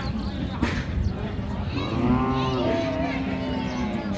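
A cow moos loudly and close at a busy cattle market, one drawn-out call rising over a crowd of voices and market chatter.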